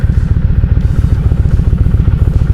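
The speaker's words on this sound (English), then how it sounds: "back my bike up in here" A motorcycle idles close by with a loud, throbbing, pulsing engine rumble, a steady rhythmic chug that holds through the whole clip as the bike is backed up outside a store.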